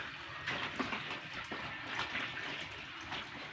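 Water falling steadily, a continuous splashing rush without pause, close and moderately loud, with no voices.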